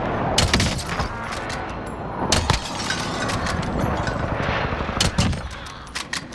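Rapid gunfire and sharp breaking, shattering impacts in a video game shooter, loud and dense in bursts with no talk over it.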